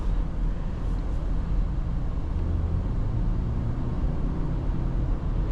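A 2026 BMW X3 30i hums steadily from inside the cabin while it is driven in a performance test, its low engine and road rumble constant and fairly loud with no talk over it.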